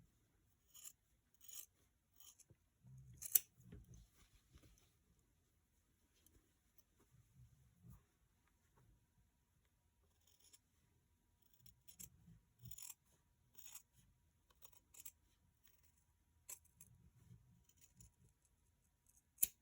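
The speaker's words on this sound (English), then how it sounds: "you're going to cut off the excess from the feet, the arms, and the ears" Scissors trim excess fabric from the feet, arms and ears of a handmade stuffed bear, giving close, quiet clusters of short crisp snips separated by pauses.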